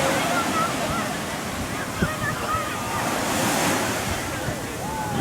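Ocean waves in Nordeste, Bahia wash and spill over onto the shore with a continuous roaring surf and gusty wind buffeting close by, with a person talking faintly underneath.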